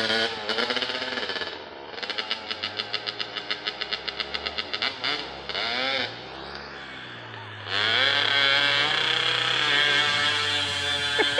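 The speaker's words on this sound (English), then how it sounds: "It's so hard to get those bikes going." Motorbike engine sputtering and revving outdoors in winter snow, first a fast pulsing idle, then a rough changing drone, then a louder sustained rev, close to the microphone and fairly loud throughout.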